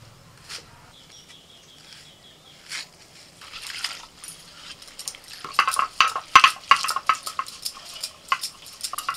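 Poppy seeds and green chillies are ground together: scattered faint scrapes at first, then rapid, rhythmic gritty grinding strokes that grow louder and busier toward the end.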